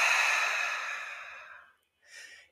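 A long, soft breath is pushed out during a guided breathing exercise, fading gradually over nearly two seconds, followed after a brief pause by a shorter, quieter breath.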